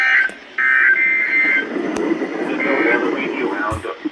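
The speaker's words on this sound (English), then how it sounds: "The warning line tone will be activated for your listeners" The NOAA weather radio warning alarm tone during a weekly test broadcast, a loud steady electronic tone that drops out briefly and returns, with a voice talking over it.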